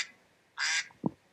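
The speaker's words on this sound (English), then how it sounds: "Now it quacks. There's the duck." A single loud duck quack, a short bright burst standing out clearly against near silence, followed by a brief low knock.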